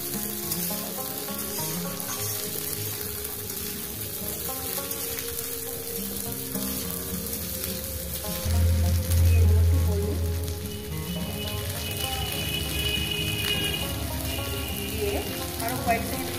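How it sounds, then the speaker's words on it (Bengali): Masoor lentils and drumstick pieces fry together in hot oil with a dense, continuous sizzle, close and fairly loud, with a brief low thump partway through. "এই ডাল আর ডাঁটা একসঙ্গে ভেজে নেব"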